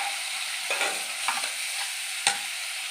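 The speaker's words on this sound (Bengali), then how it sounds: "কিশমিশ দিয়ে ভালো করে আমি সমস্ত কিছু দিয়ে কষিয়ে নেব মশলাটা" A spice mix of turmeric, chili powder, salt, sugar and raisins for stuffed bitter gourd sautés in a pan, giving a soft continuous sizzle. A spoon scrapes and knocks against the pan a few times, with one sharp knock near the end, and no one speaks.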